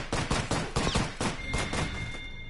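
Rapid bursts of gunfire in an online shooter video game, a quick fusillade of sharp cracking shots in close succession, loud and near, with no talk over it.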